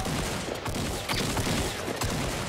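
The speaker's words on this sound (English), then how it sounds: "Somebody's shooting at me." Sustained burst of gunfire in Fortnite, dense overlapping shots rattling nearly without pause, loud and harsh, with no talk over it.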